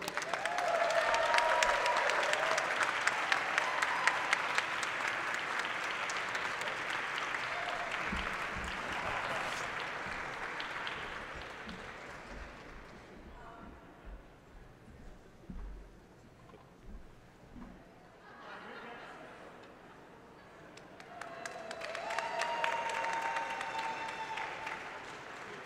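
Audience at a design awards event applauding, a sustained wash of clapping that fades and dips midway, then swells again near the end, moderately distant in a large room.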